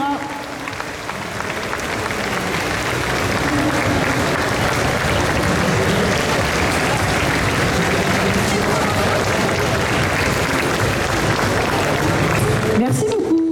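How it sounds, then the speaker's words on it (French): Sustained, loud audience applause with crowd noise for cosplay contestants at a convention costume contest in Toulouse, steady dense clapping filling the hall throughout. "Allez, on peut les applaudir encore une fois"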